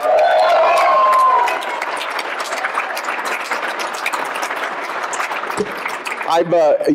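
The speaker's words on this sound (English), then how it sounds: "I wanted to just hope you could just clap your hands." Crowd applause fills the room at an awards ceremony, loud at first and then settling into a steady wash of clapping, with a voice breaking in near the end.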